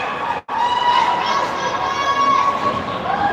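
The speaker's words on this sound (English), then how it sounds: "We got cheering parents on both sides because of the back and forth that was just happening there in front of the net" Parents cheering on both sides of a youth ice hockey rink, a loud, sustained roar of shouting voices that briefly cuts out, then surges back and holds strong.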